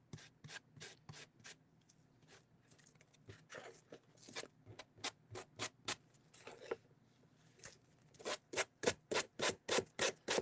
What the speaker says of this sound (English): I'm using one of these sanding brushes